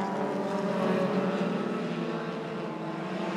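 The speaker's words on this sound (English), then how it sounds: "That's the sound of the car leaving." At the 2017 Continental Tire 120, a race car pulls out of the pit lane with a steady, dense engine roar that fades slightly toward the end.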